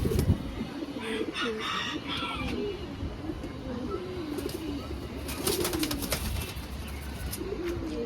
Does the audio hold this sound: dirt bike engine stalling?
no